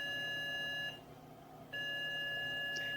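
A 386 computer motherboard gives a POST beep code: steady high electronic tones broken by a short gap near the middle, then resuming, with a continuous hum underneath and no talking.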